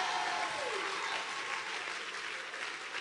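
A church congregation applauding to acclaim the Lord fills the space with steady, dense clapping at full strength from start to finish, with a faint voice briefly audible beneath.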